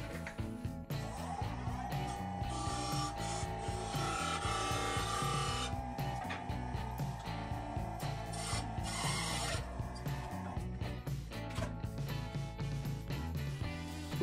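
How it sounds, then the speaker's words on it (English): A spindle gouge cuts a wooden hinge piece spinning on a lathe, a continuous loud rasping and scraping that holds steady throughout, with a constant motor hum underneath. "I'm going to mark the line with my skew chisel, and then I think I will use my spindle gouge to turn this."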